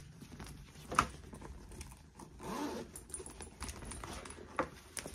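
A short zipper pull rasps open on an inside pocket of a convertible bag in a quiet room, followed by light handling and rustling of the bag.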